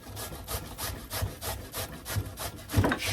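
Carrots and sweet potato are shredded on a hand grater in a home kitchen with a rapid, steady rasping stroke rhythm. The scraping is close and continuous, and no one speaks over it.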